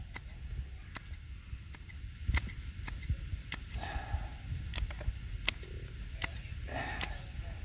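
Hand shears trimming dead, frost-damaged growth on a hibiscus shrub outdoors: a series of crisp, separate snips at irregular intervals, close and fairly quiet over soft background rustle, with no talking.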